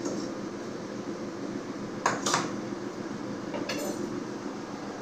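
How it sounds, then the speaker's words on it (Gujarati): Steamed papad rolls on a dish lifted out of a steamer after the gas is switched off, with two brief metallic clinks of the plate against the pot over a steady low background hum. "ચાલો ગેસ બંધ કરી દઈએ અને ડીશ બહાર કાઢી લઈએ."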